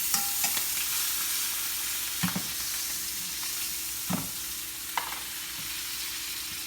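Butter frothing and sizzling steadily in a hot pan before thyme, rosemary and garlic go in, with a few sharp crackles and soft utensil stirs over a continuous hiss.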